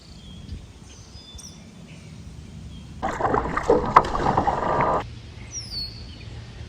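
A paddle strokes through water as a boat moves across a marsh at sunset, with a short burst of splashing and dripping over quiet ambience and scattered bird calls.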